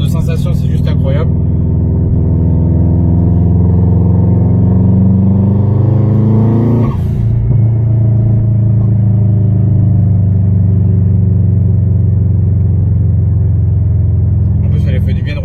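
A Subaru Impreza WRX STI engine rumbles loud and close as the car drives, its deep steady drone climbing in pitch, dropping sharply around the middle, then settling into an even cruise.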